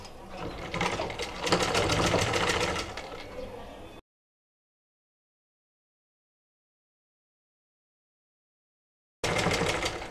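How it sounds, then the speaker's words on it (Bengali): A sewing machine stitching the side seam of a blouse whirs in a rapid, even run for a few seconds, then cuts out to silence before a brief burst resumes at the end. "এবার আমি সাইড থেকে সেলাইটা করব।"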